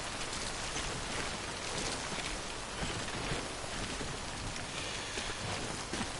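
Steady rain pours down in the video game Death Stranding, a dense, even hiss filling the whole stretch with no pauses and no voices.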